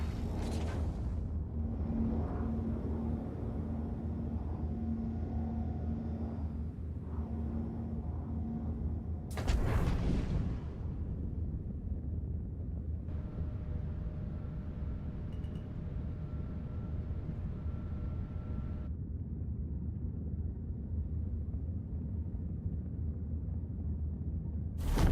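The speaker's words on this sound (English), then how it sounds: "that was my own engine sounds." Spaceship engines in a video game rumbling low and steady throughout, with a sharp thump or burst near the middle and a faint hum layered in later, no voices.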